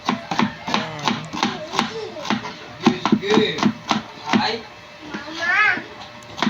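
Garlic being chopped with a knife on a board, a quick series of close, sharp taps with brief pauses, while a child chatters in the kitchen.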